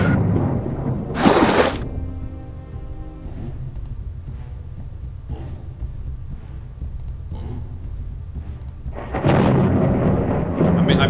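A Lightning Storm spell in a video game crackles with bursts of thunder and sharp clicking impacts, a loud burst near the start and another toward the end over a low continuous rumble.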